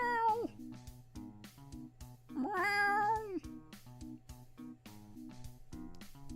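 A person's voice imitates a cat, producing a couple of drawn-out meows with wavering pitch over soft rhythmic background music, fairly close and clear.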